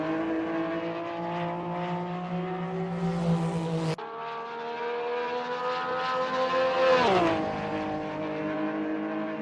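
A Porsche 911 GT3R race car engine in Assetto Corsa online racing roars loudly and continuously, pitch climbing through revs with a sharp gear change midway and a brief dip as it lifts off, with no talk.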